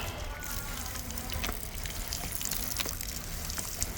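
Water runs from a municipal supply pipe in a steady, close rush and gurgle for the whole stretch, with no talking.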